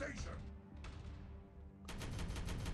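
Video game gunfire rattles in rapid, faint bursts over a steady droning backdrop, with a louder burst of shots arriving near the end.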